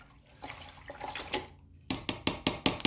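A paintbrush rinsed in a water cup during acrylic painting: soft swishing at first, then a run of sharp rhythmic taps and splashes against the container, close and clear, with no talking.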